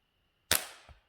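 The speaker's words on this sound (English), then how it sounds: "These pellets she's shooting are not the ones we normally have." A single sharp pellet gun shot fired at a squirrel while hunting in the Adirondack woods, with a sudden crack and a short fading tail, then a faint thud just after.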